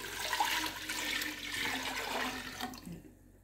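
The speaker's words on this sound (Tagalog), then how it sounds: "Sunod, lagay na natin yung aming cup na water." Water tipped from a cup into a cooking pot for a potato soup, a short close splash and running pour that tails off after about three seconds.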